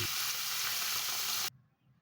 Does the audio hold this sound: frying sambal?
yes